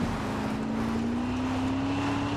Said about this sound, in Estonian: Oh, see on kuskil helikopter.